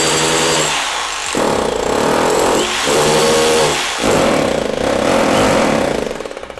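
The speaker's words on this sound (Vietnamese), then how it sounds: "Chức năng khoan đục bê tông nha anh em." Bosch rotary hammer in concrete chiselling mode, loud rattling hammer blows in several bursts separated by brief pauses, close and alone.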